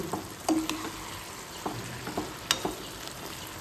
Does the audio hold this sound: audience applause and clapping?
no